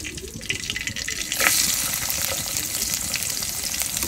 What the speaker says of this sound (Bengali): এখানে পেঁয়াজ কুচিগুলো আমি দিয়ে দেবো।